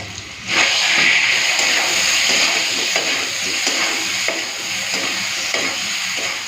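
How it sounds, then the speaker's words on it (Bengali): Ground spice paste frying with potatoes in a pan, a loud steady sizzle and hiss right up close, broken by repeated scraping stirs, with no one talking. "আর মশলাটা কষলাম না একসাথেই কষে নেবো মানে ভেজে নেবো মশলাটা আলুর সাথে"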